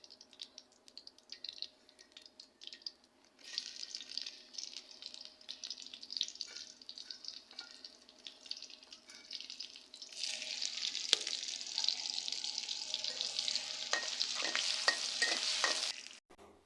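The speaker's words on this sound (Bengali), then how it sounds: "বাগারের মধ্যে জিরা দেওয়া হইব, আর রসুন।" Cumin and garlic fry in oil for tempering, a quiet crackling sizzle that swells into a louder, denser hiss toward the end, with scattered light pops.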